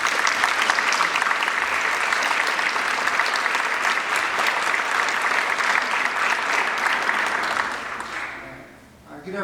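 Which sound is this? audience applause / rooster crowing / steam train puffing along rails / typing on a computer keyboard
audience applause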